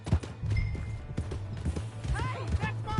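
Horse hooves clip-clop at a quick gallop in the western video game Red Dead Redemption 2, rhythmic and close, with a short whinny and other game sounds layered over it.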